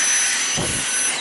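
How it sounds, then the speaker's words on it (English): A household vacuum cleaner runs close and loud with a steady, even whine and roar, shifting slightly in tone midway as it moves across the floor. "All done vacuuming where the tree was."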